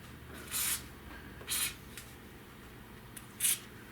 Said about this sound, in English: I am gonna spray a little WD.